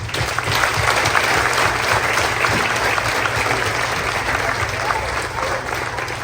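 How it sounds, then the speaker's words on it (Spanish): Congregation at a novena for San Nicolás de Bari breaking into loud, sustained applause that fills the whole clip, dense and steady with crowd noise mixed in. "Un aplauso"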